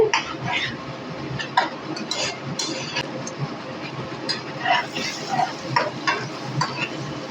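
Chopped tomatoes, potatoes and onions fry together in a pan, a soft continuous sizzle with light stirring clinks and scrapes of a spoon against metal, heard near with faint kitchen noise.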